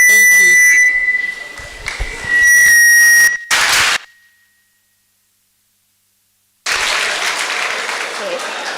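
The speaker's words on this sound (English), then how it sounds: "Why are you clapping?" Freshers at a school orientation clap and whistle, with a sustained whistle tone and cheering over applause, a sudden cut to near silence, then a renewed burst of dense clapping.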